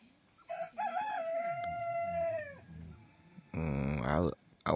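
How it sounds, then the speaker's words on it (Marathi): A rooster in a village in Konkan crows one long, drawn-out call, then another bird call bursts out loudly near the end, fairly close with rural background quiet between. "आवाज आहे का कोंबड्यांचा."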